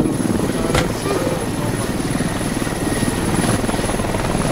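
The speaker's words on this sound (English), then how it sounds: "Did that helo land or did he just fly by?" A military helicopter passes in the game Squad, its rotor beating in a loud, steady thrum that fills the whole stretch at close range, with voices faintly mixed beneath it.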